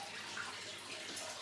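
Water from soaking rice being poured off, a steady broadband rush of liquid running out for a short stretch with no talk.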